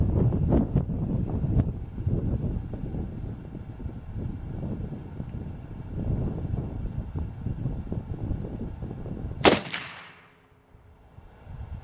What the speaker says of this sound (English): Let's just see if the second shot is on.